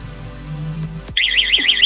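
Wireless home alarm panel (SMART WORLD SW-G66 WiFi/GSM system) sounds a loud, rapidly warbling electronic siren that starts abruptly partway through and carries on steadily to the end, preceded by a faint low hum.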